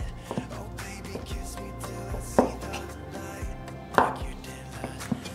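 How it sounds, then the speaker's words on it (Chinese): Knife chops softened, squeezed-dry shiitake mushrooms on a cutting board, a few sharp distinct strikes spaced irregularly among softer cuts, close and fairly quiet with no talk. "把香菇切碎"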